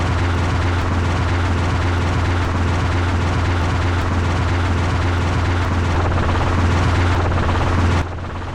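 A helicopter flies over Texas terrain during a wild hog hunt. A loud, steady rotor drone with a deep, constant hum sounds close and continuous, then drops off abruptly near the end.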